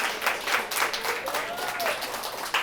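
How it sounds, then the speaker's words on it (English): An audience claps for the panel at a launch party, with dense, fairly loud applause running throughout while a voice speaks over the top. "you guys deserve a round of applause"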